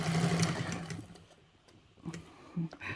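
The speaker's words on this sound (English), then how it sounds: "I'm filming myself sewing" A sewing machine stitches in short bursts while a Travelnizer is sewn, giving a steady motor hum with rapid needle ticks. The whir pauses briefly in the middle, then restarts with clicks and hum close by.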